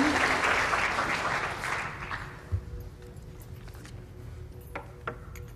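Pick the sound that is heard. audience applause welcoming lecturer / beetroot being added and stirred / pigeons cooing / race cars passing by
audience applause welcoming lecturer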